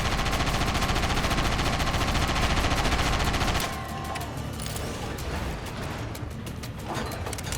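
A weapon in the Sand Land video game fires in a loud, dense, continuous rapid burst for several seconds, then the barrage thins into scattered shots and impacts.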